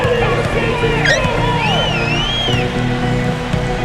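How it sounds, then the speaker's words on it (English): Crowd murmur and arena hubbub from an NBA 2K14 basketball video game, a steady wash of mixed voices filling the clip with no clear cheer peaks, under synthetic play-by-play commentary tones. "Can you hear the crowd kind of murmuring?"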